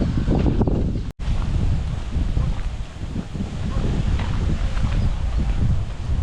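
A strong evening wind at Machampalayam buffets the microphone with loud, continuous rumbling gusts, broken once by a brief dropout, with rustling throughout.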